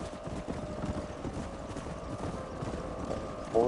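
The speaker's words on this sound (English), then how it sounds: "Horse." Horse hooves clip-clop steadily in Red Dead Redemption, a continuous run of hoofbeats at moderate loudness over a low mechanical rumble, with no talking.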